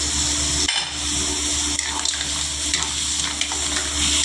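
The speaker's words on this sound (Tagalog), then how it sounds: "Ang patis kasi guys, pagka yung patis, nilalagay mo yan habang nagigisa ka" Fish sauce sizzles steadily in a hot pan during sautéing, a loud continuous frying hiss with occasional stirring scrapes and no talk.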